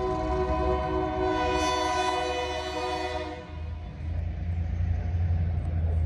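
A switcher locomotive leading a rock train cab forward notches up its throttle, a loud steady diesel rumble with strong tonal harmonics and a horn-like drone, swelling briefly then settling into a deeper, rougher roar nearby.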